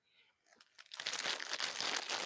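A plastic bag crinkles steadily and close up while items are taken out of it, dense rustling that swells after a few faint rustles at the start.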